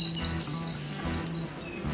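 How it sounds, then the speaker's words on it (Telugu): Several birds chirp around a house garden in short, high, repeated tweets over a quiet background, fairly close and clear. "మా ఇంటి చుట్టుపక్కల ఎప్పుడు ఈ పక్షులు ఉంటూనే ఉంటాయండి. రకరకాల పక్షులు వస్తుంటాయి."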